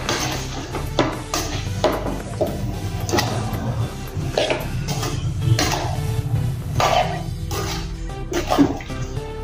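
Brinjal, potato and ridge gourd being stirred together in a cooking pot, giving a steady wet clatter and scraping with repeated knocks of the spoon against the pot, close and fairly loud with no talking.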